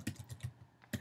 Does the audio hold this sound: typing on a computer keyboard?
yes